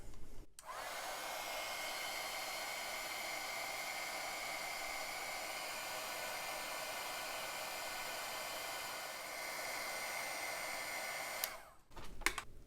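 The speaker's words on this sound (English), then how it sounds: "now I can melt my powder here." A heat tool blows a steady, loud airflow hiss as it melts embossing powder on paper, running continuously for about eleven seconds before cutting off, with no talking.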